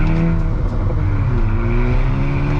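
A 2018 Honda Civic Si engine drones loud and close, holding a steady buzzy, lawnmower-like note with slight shifts in pitch as it revs, with no voices over it.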